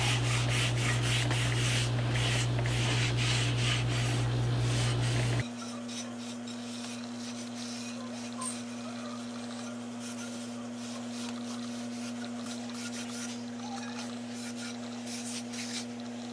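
A cast iron lid is rubbed with oil before going into the oven, giving a steady, close scrubbing rub that runs for several seconds, then gives way to a quieter stretch of soft intermittent rubbing over a low hum.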